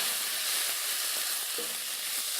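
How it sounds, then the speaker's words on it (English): Chopped onion hits a hot pan and sizzles with a steady, close, broadband hiss that holds evenly throughout, with no voices. "We add 1 heapful cup of chopped onion."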